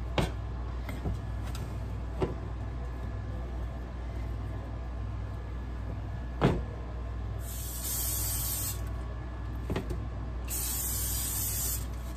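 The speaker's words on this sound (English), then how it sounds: "I'll spray this bowl." Two bursts of cooking spray onto a bread-dough bowl hiss out, each lasting about a second, over a low background hum with a few faint knocks in between.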